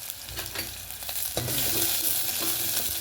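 Cumin, onions and curry leaves frying in oil for radish sambar, a close crackling sizzle that swells louder midway as fresh ingredients hit the pan, with stirring scrapes throughout.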